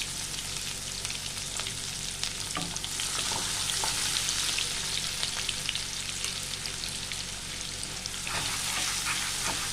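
Chopped onion frying in a pan for chirer pulao, a steady dense sizzle with occasional crackles and light stirring scrapes, close and continuous throughout.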